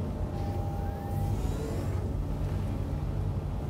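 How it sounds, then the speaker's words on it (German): A tank rumbling along in the video game Star Citizen, a heavy low engine drone that runs steadily and close throughout, with a brief whining tone early on and no speech. "Wo wir mit dem Panzer fahren können."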